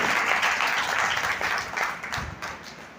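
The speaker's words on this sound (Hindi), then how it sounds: "एक बार तालियां बजाते हैं" An audience claps together at a devotional gathering, a moderate wash of applause that thins and fades over a few seconds.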